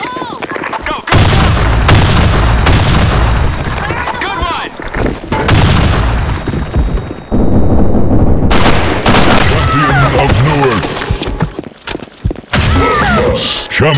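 Rapid gunfire and heavy explosions from a grenade burst fill a BlackShot first-person shooter match, with loud bursts of shots broken by short gaps and game voices calling out between them.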